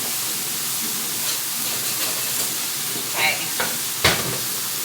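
Homemade potato chips fry in hot oil, a dense, steady sizzle and hiss heard up close, with a few brief stirring clinks; a voice speaks a single word over it.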